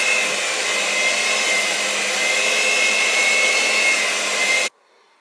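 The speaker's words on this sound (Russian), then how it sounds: "И на небольших оборотах все взбиваю." An electric mixer whisks cream for a cookie cake at low speed, a steady, close whirring drone that stops abruptly near the end.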